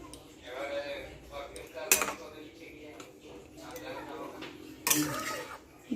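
Fish pieces go into a cooking pot with potatoes and a lid covers it. Two sharp metallic clanks of the pot and lid stand out against quieter kitchen clatter while someone talks.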